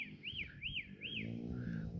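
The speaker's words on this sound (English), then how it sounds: "that bird came back, and I guess you could hear the sound" A mockingbird gives three quick, rising-and-falling whistled chirps in a row, then a softer call, over a steady low rumble outdoors near grass and pumpkin plants.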